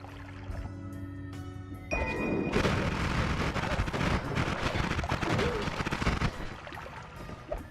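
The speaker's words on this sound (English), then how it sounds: "Oh, that's just firecrackers." Firecrackers going off in the Noita video game: a dense, sustained burst of rapid crackling pops that begins abruptly and runs loud for several seconds before thinning out.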